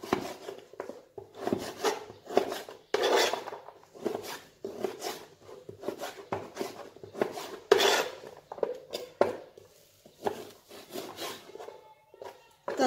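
Beef is chopped into cubes on a cutting board, a steady run of short, close knife strikes and scrapes in an uneven rhythm, moderately quiet, with no talk over it.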